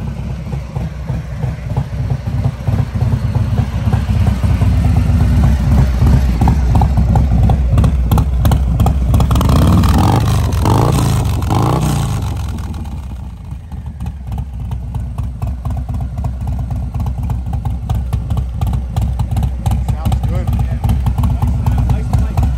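A loud Harley-Davidson motorcycle with a 114 engine idles with a steady low rumble, revving up mid-clip before settling back to idle, with voices talking over it.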